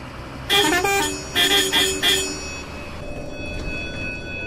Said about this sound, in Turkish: Mahalleli bu kornaları bilsin.